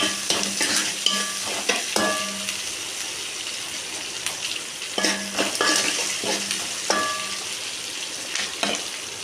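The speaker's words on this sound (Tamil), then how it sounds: "வெங்காயத்தை நல்லா வணக்கிக்கலாம் வெங்காயம் நல்லா வணங்கி வரட்டும்" Onions sautéing in a hot pan, a steady sizzle broken by repeated scraping stirs of a spoon against the metal, close and fairly loud, with no talking.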